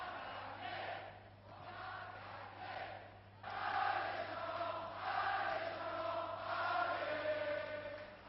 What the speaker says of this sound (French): C'est une foule enthousiaste, heureuse, qui a acclamé et porté le député-maire de Bordeaux.